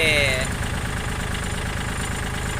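A Kubota L4018 tractor engine runs in second gear while working rocky ground, a steady close low diesel thrum with a faint knock, and someone talks over it.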